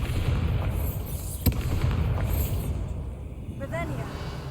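A Bombarda spell goes off in Hogwarts Legacy, a single sharp blast cutting through dense game ambience and low rumble, with a brief whooshing flourish near the end.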